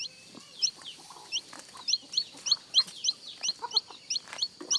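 Chickens and a mother hen cluck in a rural Thai farmyard, bright clucks and chirps repeating in quick irregular bursts, fairly close and moderately loud, with no talk.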